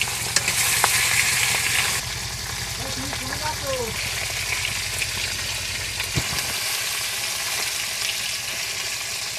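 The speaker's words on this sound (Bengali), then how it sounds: "একবারে বেশি মাছ দেওয়া যাবে না, অল্প করে করে দিয়ে ভেজে নিচ্ছি।" Fish frying a few pieces at a time in hot oil, a dense continuous sizzle and crackle with a low engine-like hum beneath for the first six seconds, then the sizzle carrying on alone.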